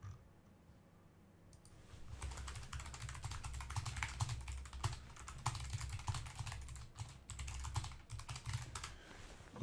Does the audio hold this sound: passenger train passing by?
no